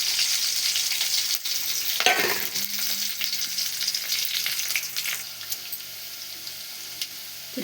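Two slit green chillies frying in hot oil, giving a continuous crackling sizzle with a short flare of sputtering partway through and a few light stirring scrapes, no voices.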